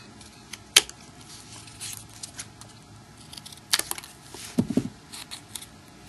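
Scissors cutting a small paper piece for a 3D origami panda: a few sharp, close snips, one crisp cut early, another in the middle and a short cluster later, over a quiet room.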